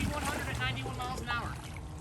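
Small boat's motor running flat out at about 6100 RPM and 91 mph, a steady droning roar mixed with wind buffeting the microphone, with people talking over it.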